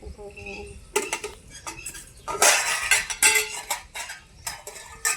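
Metal pot and utensils clink and scrape while khichdi is added to boiled water in a home kitchen, a series of sharp irregular clatters and knocks close by, with softer handling sounds between them.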